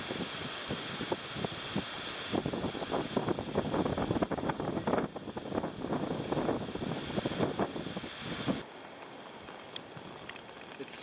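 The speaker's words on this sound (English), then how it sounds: "It's super windy" Strong wind at a lake between Latvia and Lithuania buffets the microphone with a steady broadband roar and gusty rumble, easing suddenly near the end.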